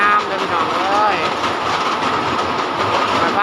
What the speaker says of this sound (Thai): รถไฟมาฮอดแล้ว